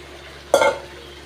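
A spoon scrapes once through tamarind poha upma in a pan, a short, close, sizzling stir that fades quickly into quiet.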